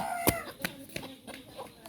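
Chicken clucking in short, separate bursts, about four clucks spaced unevenly over a couple of seconds, fairly close with some background noise.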